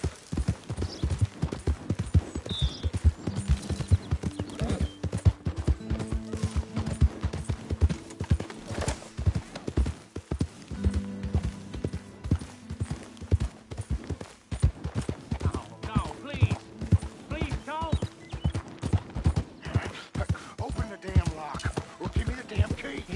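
Horse hooves gallop in a steady, rapid clip-clop rhythm throughout, close and prominent, in the Western game Red Dead Redemption 2, with other game sounds mixed underneath.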